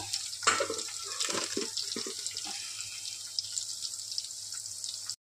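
Water from boiled rice is poured off and strained, giving a short burst of splashing followed by a light, steady trickle. The sound is close but faint.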